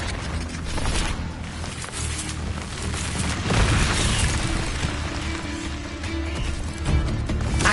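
An Incendio fire spell is cast in Hogwarts Legacy, a roaring whoosh of flame with rumbling booms that swells and holds for several seconds, fairly loud against game ambience.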